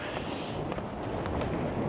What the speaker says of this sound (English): Very windy this morning